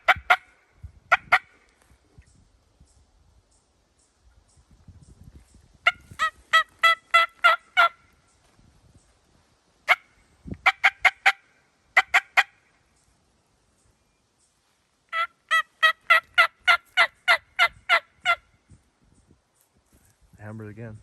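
Wild turkey toms gobble repeatedly in the distance during a hunt before a thunderstorm, several bursts of rapid rattling calls spaced apart, with quiet rustling between and faint low voices near the end.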